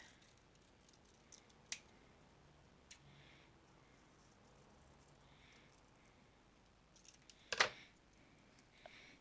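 Scissors snip a paper leaf shape in a quiet room, with a few sparse, faint cuts and one sharper, louder snip near the end.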